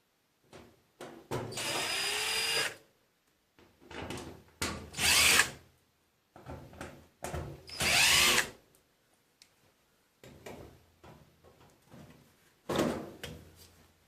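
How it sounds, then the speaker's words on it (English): A power drill driving out screws from the back of a clothes dryer while the heating element is being removed, with several loud whirring bursts separated by pauses and small clunks of parts being handled. "you have to take off 3 screws here"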